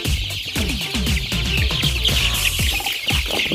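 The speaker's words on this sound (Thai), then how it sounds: "หิวมาก ไก่หิว" Hungry three-week-old chicks cluck and peep in a busy crowd while being fed, with rapid overlapping chirps over soft low thuds of pecking, close and fairly loud throughout.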